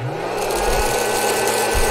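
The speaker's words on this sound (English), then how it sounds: "It's running a vacuum." A vacuum cleaner runs close by with a steady, loud motor whine and a strong constant hum, its pitch rising slightly as it starts, and no talk.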